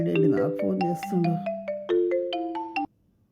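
A mobile phone rings nearby with a short, bright electronic melody of stepped tones, playing for under three seconds before cutting off.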